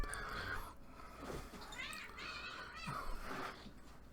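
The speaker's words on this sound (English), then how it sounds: "That's my stupid cat." House cat meowing repeatedly, several drawn-out, wavering cries spread across a few seconds, moderately close but fairly quiet, with no talk over them.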